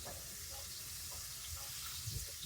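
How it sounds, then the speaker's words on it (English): Faint, steady sizzling of fish frying in a pan, a continuous crackling hiss with no talking. "hit the pan, it's a sizzling."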